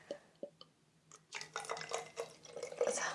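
Tap water poured onto a houseplant during repotting gives soft drips, then a steady close trickle and splash of liquid, quiet and without talk.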